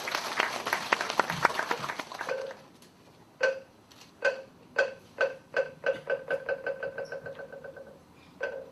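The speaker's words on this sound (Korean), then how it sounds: "박수로 환영해 주시기 바랍니다" A crowd at a tape-cutting ceremony opening an art exhibition gives a short burst of broad applause. It settles into sharp, rhythmic clapping in unison that gradually speeds up.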